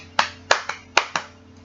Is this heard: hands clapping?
yes